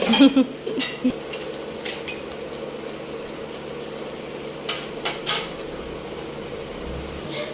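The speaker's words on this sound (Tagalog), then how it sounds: "Haluin natin hanggang madurog." A spoon stirring and mashing food in a pan on the stove, with a few clinks and scrapes early on and again later over a low steady sizzle, close and moderate.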